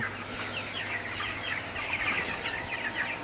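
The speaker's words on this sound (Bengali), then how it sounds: "এই যে আমার ওই 55টা মুরগি, তো বড়গুলা রেখে দিছি বড় করার জন্য।" Broiler chickens in a shed on a small farm, a close chorus of overlapping clucks and soft calls over a low steady hum.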